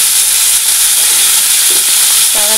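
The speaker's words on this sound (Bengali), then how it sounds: "এবারে বিনস আলুটা ভাজা করে" Beans and potatoes fry in a pan with a loud, continuous close-up sizzle and hiss, steady throughout, with a faint brief voice near the end.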